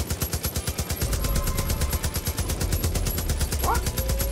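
Rapid automatic gunfire in Far Cry 5, a fast regular stream of loud close shots running through the whole stretch, with a brief voice near the end.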